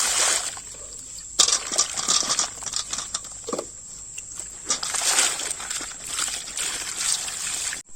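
Raw chicken being washed in water for a pepper chicken dish, close trickling and sloshing with patters and splashes that rise and fall as the pieces are rubbed and rinsed.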